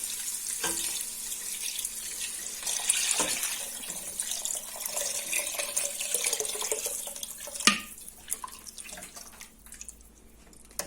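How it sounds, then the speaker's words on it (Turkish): Water pours into a pot for turnip juice soup, a continuous close splashing gush that thins out near the end, with a brief clink partway through and no talking. "Ve suyunu ilave ediyoruz."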